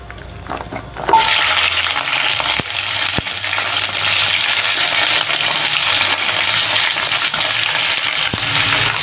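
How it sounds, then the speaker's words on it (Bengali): Chopped onions drop into hot mustard oil for chilli chicken, setting off a loud, steady, close-up sizzle that starts abruptly after a brief quiet moment and holds without a break. "তেলটা ভালো মতো গরম হয়ে এসেছে। এরপর দিয়ে দেবো কেটে রাখা পেঁয়াজ।"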